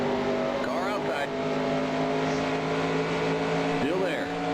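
In NASCAR Racing 2003 at the 1985 Southern 500, a race car engine holds a steady high drone while another car runs alongside. Brief spotter voice calls cut in twice over the continuous roar.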